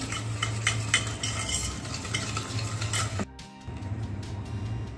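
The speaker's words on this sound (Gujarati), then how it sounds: "હવે તેમાં ખાંડ નાખીશું અને આને એકદમ સરસ રીતે મિક્સ કરીશું જ્યાં સુધી તે ક્રીમી ના થઈ જાય" Sugar being mixed into cake batter in a bowl for a marble cake, with continuous scraping and stirring strokes that pause abruptly near the end before resuming.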